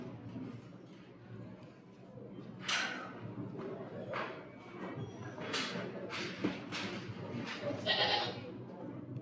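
Goats at a school stock show bleat several times, short wavering cries at varying distances over a murmuring indoor background.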